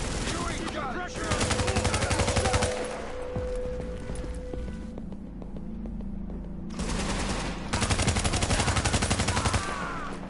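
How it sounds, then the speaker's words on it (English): An assault rifle in The Division fires two long automatic bursts, loud and close, with quieter game ambience and a lull between them. "This assault rifle kicks a lot of ass."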